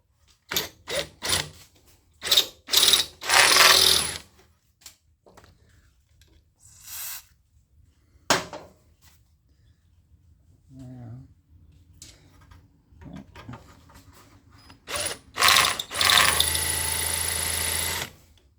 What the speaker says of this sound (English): Trying to be careful not to drill into this center pin.